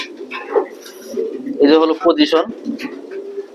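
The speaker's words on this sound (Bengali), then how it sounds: "দীপু দেওয়ান ভাইয়ের লফটের এটা কবুতর" Pigeons coo in a racing pigeon loft, soft throaty calls rising and falling close by while someone talks over them.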